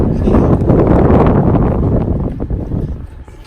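Strong wind blows across a boat ramp, a loud, steady rushing roar buffeting the microphone that eases slightly toward the end, with no talking.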